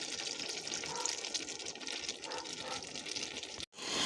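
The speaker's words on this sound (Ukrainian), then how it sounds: "10 хвилин кипить, додаю оцет." A 200 ml glass of 9% vinegar poured into a boiling pot of early cabbage salad, a steady hissing liquid stream close by, ending with a brief cut-off and a slight resumption.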